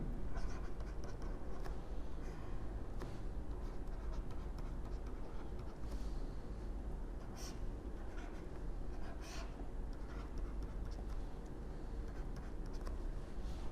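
A pen moves steadily across a writing surface while a chemical structure is drawn, making continuous soft scratching under a constant background hum.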